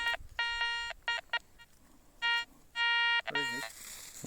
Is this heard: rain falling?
no